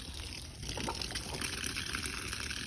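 Fresh water spilling out of the overfilled, non-pressurized tank on a custom Tioga Arrow RV, a steady splashing trickle that runs the whole time with no talk over it.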